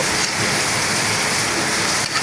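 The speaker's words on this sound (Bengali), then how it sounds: "দেখেন কত সুন্দর বৃষ্টি পড়তেছে" Steady, loud rain pouring down continuously, a dense hiss of drops hitting surfaces with no pauses.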